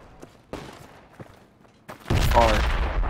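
Suppressing gunfire in the military shooter Project Reality: a few faint distant shots and thumps first, then a loud sustained burst of close automatic fire filling the last second.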